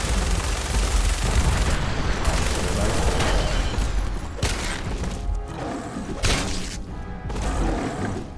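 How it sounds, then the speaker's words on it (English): A minigun fires in the Fallout 4 video game, a loud, dense stream of rapid shots with impacts and thuds, broken by brief gaps and mixed with other battle noise. "This is why you don't want to use up all your minigun ammo."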